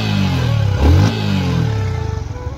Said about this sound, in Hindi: अपनी बाइक हो चुकी है स्टार्ट, और ये देख लो RPM मीटर जो है बाइक का एकदम हाई हो चुका है